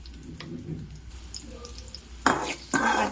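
Green chillies and tempering spices frying in oil in a pan for semiya and ravva upma, with soft stirring and clinks, then two louder bursts of sizzling spatter near the end.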